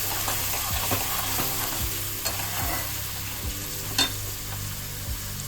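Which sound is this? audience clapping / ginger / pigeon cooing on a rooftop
ginger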